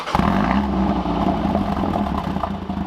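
A modified 2019 BMW M135i engine starts and settles into a deep, throaty idle with a slightly uneven, burbling rumble, close and fairly loud, with no talking.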